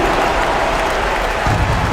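A basketball arena crowd in the NBA 2K video game cheers and applauds in a loud, dense, continuous roar with no break throughout.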